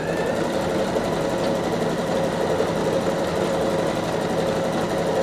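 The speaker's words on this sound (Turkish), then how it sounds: "Makineyi çalıştırıyorum." A bernette b37 sewing machine runs continuously at a steady, even whir for the whole stretch, close and uninterrupted with no voices.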